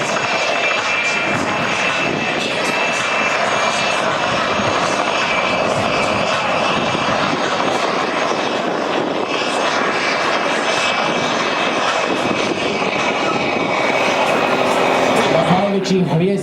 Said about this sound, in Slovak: vojenské dopravné lietadlo, ktoré na začiatku 50. rokov lietalo aj v československých aerolíniách